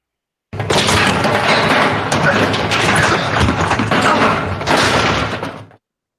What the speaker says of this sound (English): They move some debris.